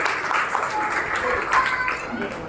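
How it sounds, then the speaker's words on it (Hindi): Audience clapping to welcome two participants at a cultural program during Daslakshan festivities at a Mahavir Jain temple; moderate, continuous applause with voices talking over it. "आप लोग का मतलब तालियों से इनका स्वागत कीजिए।"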